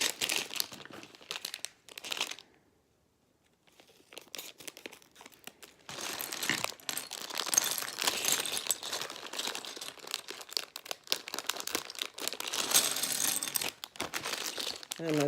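Plastic Lego blocks are dumped from a plastic bag, long stretches of crinkling and rattling clatter, close up, with a brief quiet pause and then a denser, busier cascade of clicking pieces.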